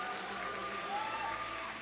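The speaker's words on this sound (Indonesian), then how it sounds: "kita berikan sekali lagi tepuk tangan untuk kedua tim debat kita" Applause from the audience for two debate teams at a university constitutional debate final, a dense, steady wash of clapping heard throughout at moderate level.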